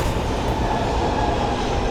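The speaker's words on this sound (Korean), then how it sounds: "열차가 도착했습니다." A New York subway train arrives at the station with a loud, close rumble of wheels on rails and a steady mechanical roar through the whole moment.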